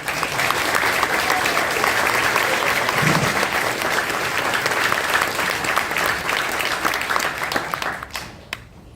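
Loud, sustained applause from an audience at a Palestine solidarity speaking event, dense clapping filling the room for several seconds before tapering off abruptly near the end.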